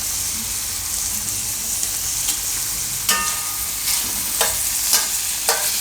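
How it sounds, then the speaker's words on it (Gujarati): Paneer roasting with Kitchen King spice and salt in a pan gives a steady, close sizzle, broken by several sharp scraping strokes from stirring near the end, with no talk. "આ રીતનું આપણે પનીરને શેકી લેવાનું, થોડુંક આમ બ્રાઉન જેવું થાય એવું."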